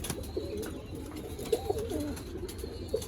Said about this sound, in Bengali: এখানে টেডি, কামাগার, গোল্ডেন সব কবুতরেরই বাচ্চা আছে এখানে